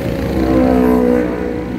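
Loud, close engine drone of rush-hour traffic from a flyover at Cijantung, with cars and motorcycles revving and passing in a dense, continuous blend that swells briefly.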